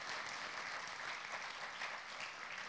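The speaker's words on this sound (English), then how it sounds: "Please give an amazing applause to our panelists." Audience at a summit in Belgrade applauds the panelists, a continuous quiet wash of clapping heard from a distance with no voices over it.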